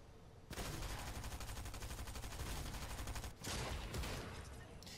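Rapid automatic gunfire in a video game, a dense, fast stream of shots that runs continuously, briefly breaks, then resumes at a steady loud level.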